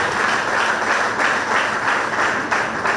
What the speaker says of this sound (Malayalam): നല്ല ഉഷാറായിട്ട് കയ്യടിച്ചു.